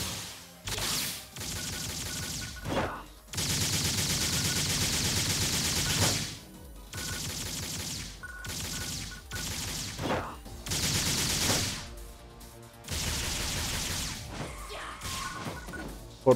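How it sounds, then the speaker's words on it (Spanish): Rifle gunfire in the video game PSO2 New Genesis, with loud bursts of rapid shots repeating in several volleys separated by short pauses, with a brief single shot or two between bursts. "Ah, este disparo atraviesa."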